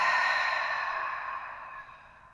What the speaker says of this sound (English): And then big open mouth exhale.